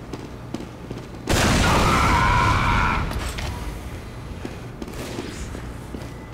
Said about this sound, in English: Shooting off some random missiles.